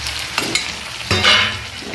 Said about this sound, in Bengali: মাংসটা ঢেলে দিলাম,